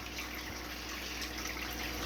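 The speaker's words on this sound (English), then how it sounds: "And that is blowing water this way. That is a really vigorous pump." A vigorous pump blows water through an indoor pond tank, giving a steady, close gushing rush of churning water without pause and with no voices.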